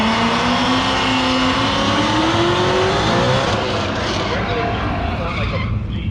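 Hot rod cars at a drag race, heard as a loud engine roar with a rising tone across several seconds, tire noise under it, and an announcer talking over the sound throughout.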